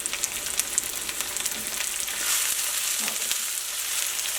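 Thinly sliced onions fry in a pan with a continuous crackling sizzle and scattered sharp pops, growing slightly fuller midway, close by with no voices.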